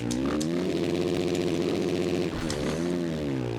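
Dirt bike engine over-revving in the MX vs. ATV All Out racing game, a loud sustained high-pitched motocross 450 whine that dips briefly and climbs again, alone without talk.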